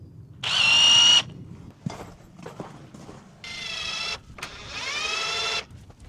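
Cordless power drill driving screws into a caravan frame, several separate whirring bursts of varying length with short pauses and small clicks between, loud and close, with no talk.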